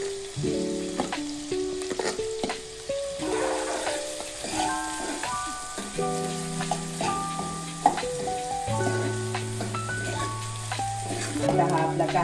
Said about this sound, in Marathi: आपण हा कांदा भाजून घ्यायचा, परतून घ्यायचा चांगला